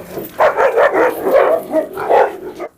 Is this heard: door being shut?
no